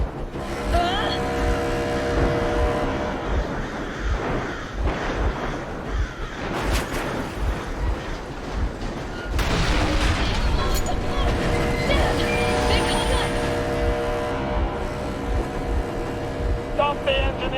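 A vehicle engine runs steadily in Metro Exodus, a continuous loud rumble with shifting revs and occasional clanks and bursts, under game music and dialogue that comes and goes.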